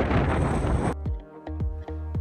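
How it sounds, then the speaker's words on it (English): Strong wind at Saxholl crater in Iceland roars loudly across the microphone for about a second, then cuts off abruptly into a few clear ringing plucked tones. "It is so windy outside, honestly."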